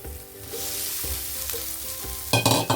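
Pre-fried mixed vegetables are stirred into a pan of spices, giving a continuous close sizzle with soft scraping strokes and a louder clattering stir near the end, with no voices.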